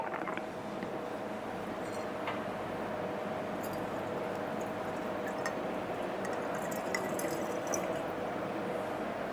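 Distilled water, 200 ml, poured into a stoppered glass bottle already holding a CCl4 solution in a lab, a steady close liquid rush and gurgle that fills the whole stretch without pause or speech.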